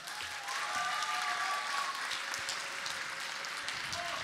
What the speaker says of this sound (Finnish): Antakaa itsellenne isot taputukset.